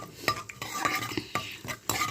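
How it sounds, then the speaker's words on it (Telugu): Mustard seeds, cumin and dried red chillies frying in oil in a pan, a close sizzle broken by several sharp spoon scrapes and stirring knocks, with no talking. "తగినంత నూనె వేసేసి ఆవాలు, జీలకర్ర, ఎండుమిరపకాయలు ఇవి వేసాను"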